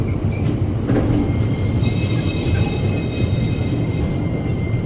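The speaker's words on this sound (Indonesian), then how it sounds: "Ini dia masuk komuter lain dari arah Bogor yang cuma sampai Manggarai dan akan kembali lagi ke Bogor" A KRL commuter electric train from Bogor pulls into Manggarai station with a loud, steady low rumble and a high, sustained wheel squeal, the sound close and continuous throughout.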